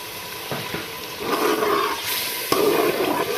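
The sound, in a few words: water poured into pan of frying tomato masala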